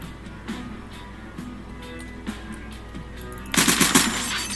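Gunfire in the shooting video game Zero Hour: muffled game sounds and small clicks lead into a loud, rapid burst of automatic fire near the end, close and sharp.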